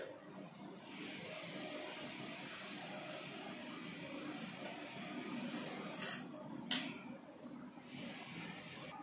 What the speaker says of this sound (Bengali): হলুদ আর লবণ দেওয়ার পর ভালো করে এইভাবে একটা হাতার সাহায্যে চারদিকটা ঘেটে দিচ্ছি, যাতে জল চালের সঙ্গে সব কিছু মিশে যায়